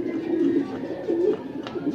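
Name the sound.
racing pigeons cooing at arrival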